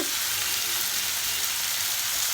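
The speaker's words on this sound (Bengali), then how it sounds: "এবার আমি এই সবজিগুলো দিয়ে একসঙ্গেই আমি নাড়াচাড়া করবো" Vegetables frying and being stirred in tomato sauce in a pan for a fish curry, a steady close sizzle throughout with no talking.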